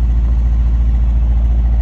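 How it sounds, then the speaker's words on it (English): A 2023 Mercedes-AMG SL 63 V8 with the AMG Performance exhaust idles in a steady, close, low rumble with a faint pulsing throb and no voices. "AMG Performance exhaust system"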